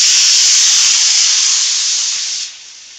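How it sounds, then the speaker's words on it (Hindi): Onion, ginger and mint hit hot oil for a tadka while cooking haleem, giving a loud, steady close-up sizzle that hisses continuously and eases off toward the end. "ये हम लोगों ने तेल गरम कर लिया है, और अब इसके अंदर हम ये सारी चीजें डाल देंगे"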